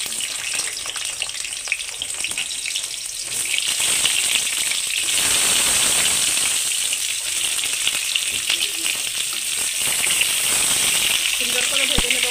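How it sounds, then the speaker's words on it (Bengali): Pointed gourd (potol) frying in hot oil in a wok on a gas stove, a loud, continuous sizzle and hiss that grows stronger partway through, with faint stirring sounds. "তো এবার আমি পটলগুলি এখানে ভেজে নেব।"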